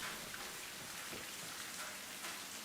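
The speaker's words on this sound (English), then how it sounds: "I do love the sound of the rain and the water coming in" Steady rain in a video game, Mass Effect Legendary Edition, hisses down in a dense, even wash with scattered drops pattering on surfaces, no voices present.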